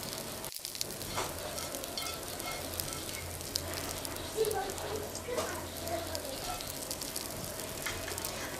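Cooked beef stirred into a pot of Bangladeshi beef bhuna khichuri, with steady frying sizzle and soft scraping stirs throughout at moderate level, no talking over it.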